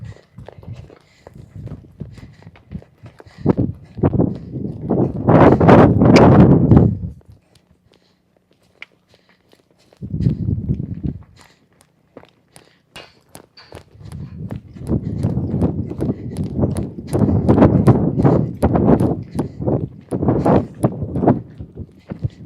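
A horse being ridden in an arena clip-clops in loud, rhythmic bursts of hoofbeats close by, with a quiet pause in the middle before the footfalls resume.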